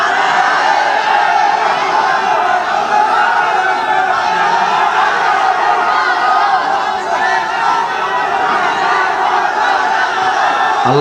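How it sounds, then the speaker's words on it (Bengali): At a religious gathering in Parshuram, a large crowd shouts the takbir in unison, a loud, sustained roar of many voices that stays steady and close throughout. "দেন দেন তাকবীর দেন"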